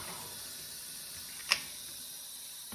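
Cold tap water runs in a steady, faint hiss while a cast iron pan is washed at a sink, with one brief clink of the metal partway through.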